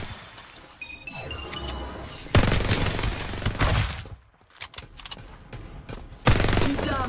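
Gunfire from the video game Farlight 84 comes in loud automatic bursts and rapid cracks, mixed with impact and shattering effects, with brief quieter gaps between volleys.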